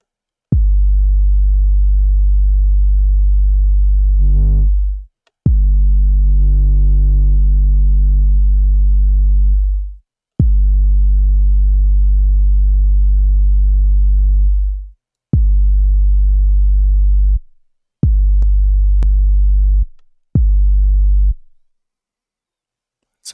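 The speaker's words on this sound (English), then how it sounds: "Let's add a little bit more distortion to it." Distorted trap bass from a Serum synth plays in long sustained notes, several held for seconds with short gaps between, loud and heavy in the low end with a gritty upper edge, alone with no talking.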